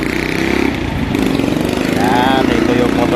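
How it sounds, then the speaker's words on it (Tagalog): A tricycle motorcycle's engine runs close by with a steady, loud mechanical drone that rises slightly partway through, while people talk over it. "Yan, ito yung motor natin mga katupay."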